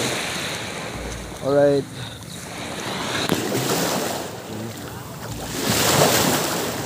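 Sea waves washing onto a beach in the morning, with steady wind noise and surf swelling and fading, while a person speaks briefly over it.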